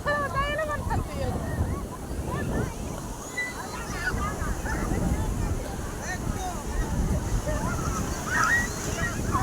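Sea waves wash and surge along Puri beach in a broad rolling roar, with wind buffeting the microphone and people talking nearby over the surf.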